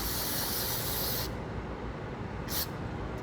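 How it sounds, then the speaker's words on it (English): A close spray can hiss in one long burst, a pause, then a short second spray, with no talking, during an ABS module replacement on a 2013 Jeep Wrangler. "now I'm just going to actually spray it again"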